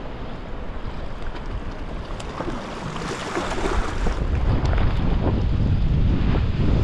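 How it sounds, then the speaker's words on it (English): Wind gusts buffet the microphone and rush over open water beside a fishing kayak, a loud, continuous blustery roar that builds stronger toward the end, with faint water lapping and no voices. "Whew, windy."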